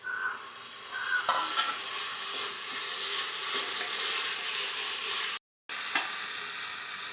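Chopped small tomatoes go into frying beef masala in a pan and are stirred, giving a steady sizzle and hiss with occasional scraping clinks of the spoon, close and continuous, with no voices.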